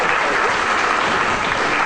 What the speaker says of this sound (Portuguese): uma salva de palmas mais para ele.